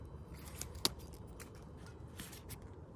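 Scissors snipping large herb leaves down for cuttings, one sharp close snip standing out over faint rustling, with a few softer cuts after.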